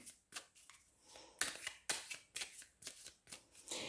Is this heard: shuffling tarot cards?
yes